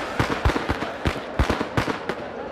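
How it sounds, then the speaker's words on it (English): Firecrackers go off in the riot game RIOT: Civil Unrest, a rapid string of sharp, loud pops in an uneven rhythm, about a dozen bursts close together with no talk. "We're firecracking these bitches."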